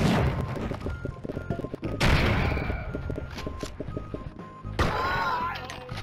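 Grenade explosions and rapid gunfire in the video game Blood and Bacon: bursts of fast rattling shots broken by two loud booming blasts, one near the middle and one near the end.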